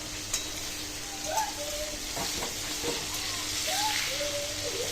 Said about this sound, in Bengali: একটু সময় নিয়ে ভাজতে হবে মচমচে ভাজার জন্য